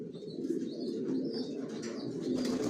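Johnson racing pigeons in a loft coo steadily with soft, continuous murmuring, joined by scattered higher chirps and faint wing flutters close by.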